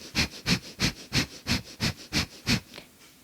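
Fast Kundalini breath of fire in a yoga kriya: nine sharp, even nasal breath pumps about three per second, close and breathy, then a brief fading tail.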